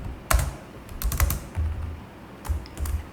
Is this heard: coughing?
no